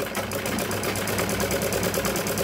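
Sewing machine stitching a sleeve, a steady close mechanical whirring with fast, even rhythmic ticking that runs without pause and is heard alone.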